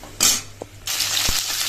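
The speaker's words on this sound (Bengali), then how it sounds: "আর এবার কিন্তু বড়িটাও ভেজে নিচ্ছে।" Bori lentil dumplings fry in a pan, with bursts of close sizzling between brief quiet gaps and a couple of light utensil knocks.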